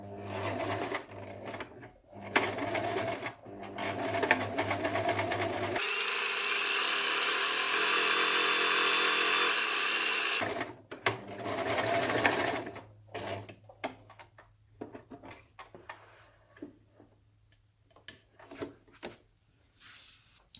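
A domestic sewing machine stitches a long seam along the length of a baby's or child's snood, with a steady, loud whirring run of about five seconds between quieter handling sounds.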